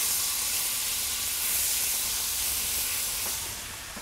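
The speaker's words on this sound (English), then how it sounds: "so I'm going to put in the pan a little bit of minced garlic" Minced garlic hitting hot butter in a pan gives off a steady, loud broadband sizzle and hiss that holds evenly for about four seconds and eases slightly at the end.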